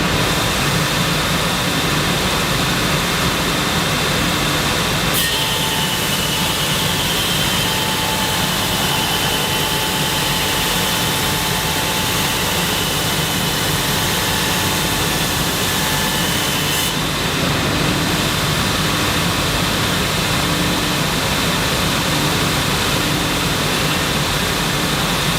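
A belt sander running a grit 120 belt rasps steadily for the whole stretch, a loud, even broadband roar with no pauses and no voices.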